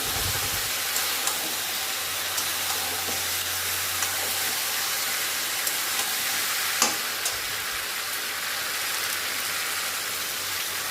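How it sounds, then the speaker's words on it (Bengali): Fried potatoes are added back into a hot pan and sautéed, giving a steady, continuous sizzle and crackle throughout, with faint occasional scrapes from stirring and no talking. "তো এবার ভেজে রাখা আলুগুলো এর মধ্যে দিয়ে দিচ্ছি, দিয়ে আবারও কষিয়ে নেব বেশ কিছুক্ষণ।"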